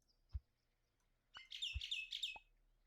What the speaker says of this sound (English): It's yet another bird.